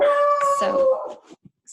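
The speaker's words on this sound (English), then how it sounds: "excuse my dog in the background." A pet dog in the background howls with a long wavering cry that breaks into shorter whimpers, fairly close and loud, followed by a brief spoken word.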